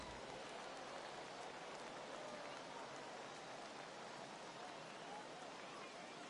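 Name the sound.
rain falling in a PS4 baseball video game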